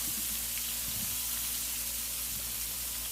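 Potatoes fry in a skillet, giving a steady, soft sizzle with faint crackles that holds evenly throughout, with no talking.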